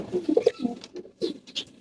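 Pigeons kept in a home loft during the rainy season coo softly in a few short, low throaty bursts close by, with brief pauses between calls and no talking.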